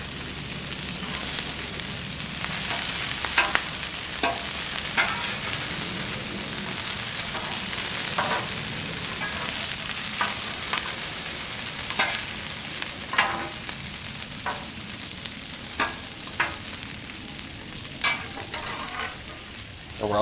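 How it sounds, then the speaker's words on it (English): A big pat of butter sizzling with mushrooms on a Blackstone griddle, a loud, continuous frying crackle with scattered pops and occasional scrape clicks, close and without talk. "I'm going to add a big pat of butter"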